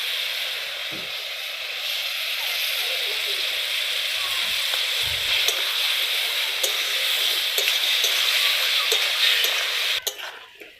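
Chopped tomatoes hit hot oil in a frying pan for aloo dum, giving a loud, steady sizzle with stirring and a few scrapes, ending in a sharp clatter.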